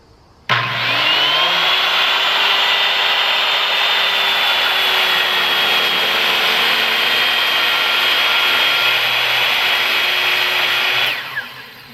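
A circular saw running with a Kreg rip-cut guide as it rips through wood, a loud close steady whine that starts abruptly, holds for about ten seconds, then winds down, with no talking.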